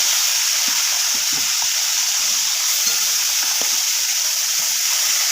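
Tilapia pieces sizzle in hot mustard oil in a wok: a dense, continuous frying hiss close by, with small crackles and pops scattered throughout and no talking.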